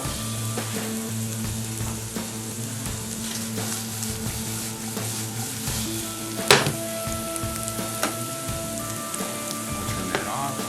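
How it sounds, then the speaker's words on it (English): Onions brown and sizzle in a frying pan for venison meatballs, a steady close crackle and hiss with a sharp clatter partway through and no talking. "See how our onions are starting to brown nice?"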